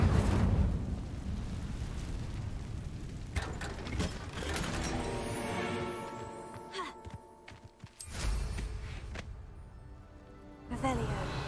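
The Incendio fire spell is cast in the video game Hogwarts Legacy, with whooshing, crackling bursts and rumbling, blast-like swells that rise and fall over several seconds.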